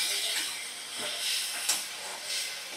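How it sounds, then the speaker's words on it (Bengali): Ground spices frying with a spoonful of sour yogurt in a pan for biriyani masala, a steady close sizzling hiss with slight surges, heard alone. "এবার 1 চামচ টক দই দিয়ে দিলাম। ভালো করে মশলা কষিয়ে নিচ্ছি।"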